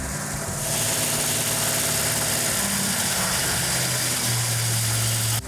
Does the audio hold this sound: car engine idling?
yes